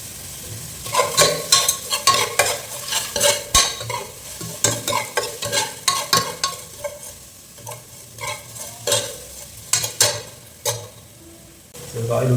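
A spoon stirs rock salt and mustard oil into beef gravy in a pan, with rhythmic scraping strokes repeating about twice a second over a soft sizzle, close and distinct, fading at the end.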